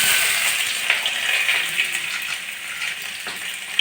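A handful of chopped garlic crackles and sizzles in hot oil with a dried red chilli, a steady close hiss with small pops and spatters throughout.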